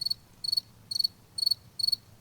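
Crickets chirping in a sound effect, five evenly spaced bursts of rapid high trills, clear and isolated against a quiet background.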